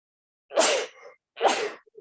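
Two sneezes from a person on a group knitting call, each a sharp burst about a second apart, close and fairly loud with no talk over them.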